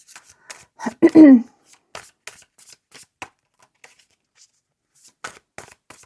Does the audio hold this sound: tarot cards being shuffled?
yes